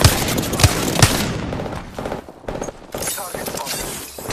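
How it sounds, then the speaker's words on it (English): Rapid bursts of gunfire in the Apex Legends video game, loud sharp shots clustered at the start and then repeating intermittently, with a player's voice talking over the action. "Opening fire."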